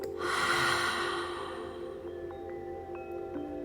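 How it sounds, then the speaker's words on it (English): A single long, deep breath pushed out through an open mouth, close and airy, loudest at the start and fading over a few seconds. "open your mouth and exhale"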